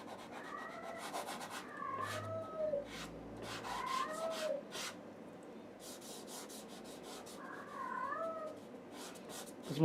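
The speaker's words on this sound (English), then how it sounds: "That's my cat, one of my cats," A house cat meows several times in a quiet room, short rising and falling calls spread across the clip, over a soft steady rubbing of pastel strokes on paper.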